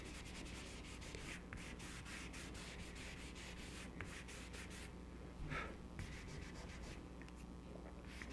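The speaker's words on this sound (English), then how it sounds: "Take my finger, I'm going to rub this in." A finger rubs and blends charcoal on paper for a willow tree drawing. The sound is a faint, steady, soft scrubbing that continues without a break, heard up close and with no talking.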